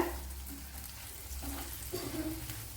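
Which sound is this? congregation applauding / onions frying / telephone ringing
onions frying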